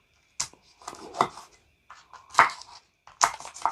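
Knife cutting tomatoes on a cutting board while making pasta all'aragosta, a handful of irregular close chops and taps spaced through the moment, with faint movement between strikes.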